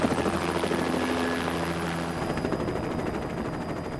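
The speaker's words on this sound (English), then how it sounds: "Our pilot lifts our helicopter off the ground and we head for the center of the island." Helicopter lifting off over the Hawaiian island of Kauai, a loud close rotor and turbine roar with a steady chop that shifts in pitch as it rises, continuous throughout.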